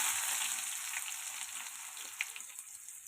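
Cumin and mustard seeds sizzle in hot oil as a steady bright hiss with small pops and crackles scattered through it, close and with no talk.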